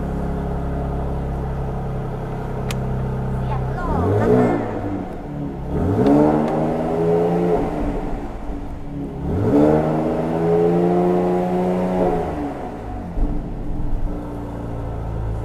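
A Mercedes-Benz engine starts and idles nearby, then revs in several rising and falling surges, a deep rumbling growl swelling and settling back to a smooth idle between bursts.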